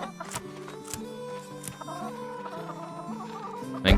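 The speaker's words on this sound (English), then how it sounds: "there is a chicken in the way" A chicken in RuneScape: Dragonwilds clucks in a few short, repeated bursts over steady game music, close and fairly loud.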